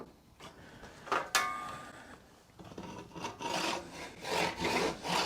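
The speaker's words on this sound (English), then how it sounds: "we can put an angle on the saw now, which will help increase the area that we're sawing" Hand saw cutting wood for a planter box on a workbench, a few scrapes and a knock at first, then steady back-and-forth rasping strokes growing louder and rhythmic, close by, with no talk.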